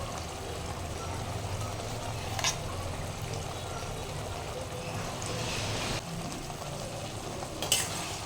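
Pomfret fish curry sizzling steadily in a pan as mustard-poppy paste is stirred in, a continuous close frying hiss with occasional soft scraping stirs, no talk.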